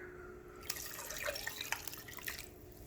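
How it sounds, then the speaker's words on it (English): Water pours into pozole in a crock pot, a quiet splashing, trickling stream lasting a couple of seconds, fairly close with no talking. "And we're also gonna add 3 cups of water."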